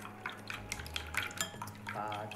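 Utensil clinking and stirring against a bowl while mixing ingredients for a Qing imperial cuisine dish, quiet and close with irregular scraping and tapping.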